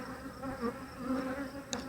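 Honey bees hum in a continuous, close drone around a Flow Hive during an inspection, steady and moderately loud with a brief sharper buzz near the end.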